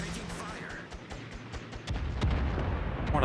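Naval gunfire in the World of Warships game: repeated sharp booming shots at irregular intervals, some distant and some closer, with rumbling impacts building toward the end under game voice lines.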